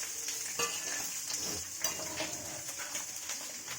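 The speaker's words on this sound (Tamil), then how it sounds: "வெங்காயம் நல்லா ஃப்ரை ஆகணும் கைஸ்" Sliced onions frying in hot oil in a pan for mutton curry, a steady close sizzle with occasional stirring clinks of utensil against pot, no voices.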